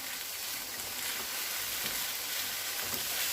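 Spanish-style chicken and noodle fried rice sizzles steadily in a hot pan, a soft, even crackling hiss with no break and no voices.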